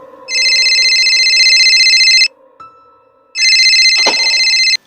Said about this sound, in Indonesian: tiba-tiba HP-nya berbunyi tuh.